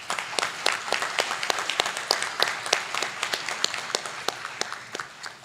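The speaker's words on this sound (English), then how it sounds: "Let's all show our appreciation one more time with a warm round of applause for Ms. Adrienne Tickle." Audience applause at a West Georgia Technical College fall commencement in a conference center, steady crowd clapping with sharp individual claps standing out, fairly close and sustained, gradually thinning toward the end.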